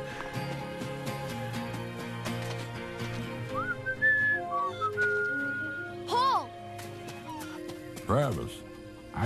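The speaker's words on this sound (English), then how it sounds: "I heard your whistle." A person whistles a few short rising notes amid background music and a brief, distinct chirping sound near the end.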